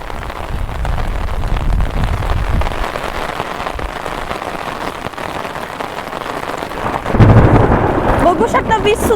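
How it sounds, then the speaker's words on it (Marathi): Heavy rain pours down during a sudden monsoon storm, with a loud, low thunder rumble near the start and another heavy crash toward the end, a voice speaking briefly near the close. "वीज सुद्धा किती जोर जोरात कडकत आहे."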